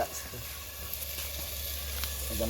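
Chicken pieces go into sizzling, well-fried masala in a pan, producing a steady moderate sizzle and hiss with a low hum beneath and faint background voices.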